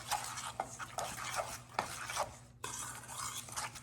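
A meatloaf mixture with whole eggs being mixed by hand in a bowl, making soft wet squishing and scraping strokes in a brief, close, quiet passage.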